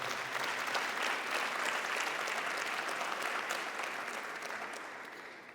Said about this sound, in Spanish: Démosle un aplauso fuerte al Espíritu Santo.